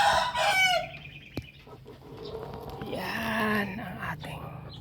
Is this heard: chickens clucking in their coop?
yes